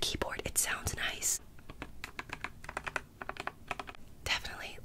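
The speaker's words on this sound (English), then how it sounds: "it's a great keyboard. It sounds nice." Typing on a Dust Silver D84 mechanical keyboard, a quick run of crisp, clicky keystrokes close up, with soft whispering at the start and end.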